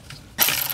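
A ratchet with a half-inch socket works loose the steering column collar on a 1987-1991 Ford Bronco, giving a short burst of loud mechanical clicking after a faint start.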